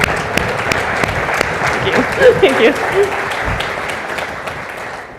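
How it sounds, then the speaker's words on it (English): Audience applause at an annual association meeting and exhibition fills the hall, a dense steady clapping while a voice speaks briefly over it near the microphone. "So let's give her a round of applause."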